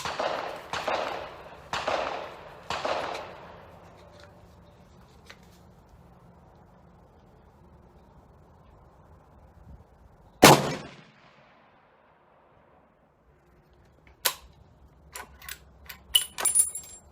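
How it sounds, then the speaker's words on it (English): Three shots from a Ruger American rifle during ammunition testing: a series of sharp cracks with decaying tails opens the clip, then a long quiet stretch, a single loud bang, and scattered fainter clicks and knocks, with no voices. "I'm going to go ahead and shoot a 3-shot group."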